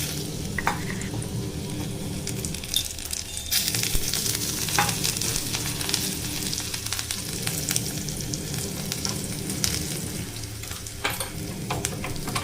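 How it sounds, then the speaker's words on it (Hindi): Kohdauri, garlic, green chili and panch phoron frying in hot oil to temper dal in a home kitchen, a steady close sizzle and crackle throughout with occasional stirring clinks. "और इसमें तड़का लगाने के लिए यहाँ पे देखिए मैं कोहड़ौरी ले ली हूँ और लहसुन, हरी मिर्च और पंचफोरन का तड़का बस इसमें लगेगा।"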